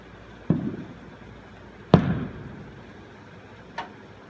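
Fireworks bursting in the distance at a nighttime show, three separate booms spaced a second or two apart, each with a short rumbling tail, the last one quieter.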